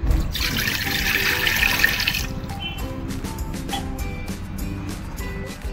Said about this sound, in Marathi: आपण कुकरमध्ये 1 ग्लास पाणी टाकूया